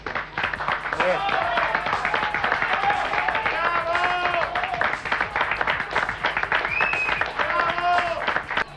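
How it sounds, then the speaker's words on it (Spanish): A crowd applauding and cheering, with many voices shouting and chattering over a continuous patter of clapping. "el aplauso que ha surgido de la gente espontáneamente al enterarse de esto"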